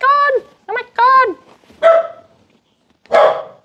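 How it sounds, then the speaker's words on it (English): A dog barks in several sharp bursts at close range, with a few short yips in between; an excited person is also heard talking around the barks. "My dog's freaking out"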